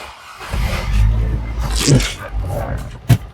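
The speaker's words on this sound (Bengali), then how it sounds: "দেখেন ইঞ্জিনের সাউন্ডটা কতটা ফ্রেশ কন্ডিশন আছে" A used, fully loaded jeep's engine starts and settles into a steady low rumble nearby, with people talking over it and a brief sharp knock near the end.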